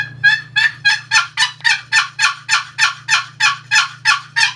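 A box call run by hand imitates a hen turkey yelp. About fourteen evenly spaced, loud, raspy notes repeat in a steady rhythm close up, with no talking.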